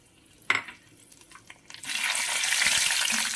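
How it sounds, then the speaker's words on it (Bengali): Whole cumin seeds and bay leaves hit hot oil with a couple of clinks, then burst into a loud, sustained close sizzle while being stirred, for a cauliflower and potato curry. "নেড়ে চেড়ে একটু ভেজে নেব"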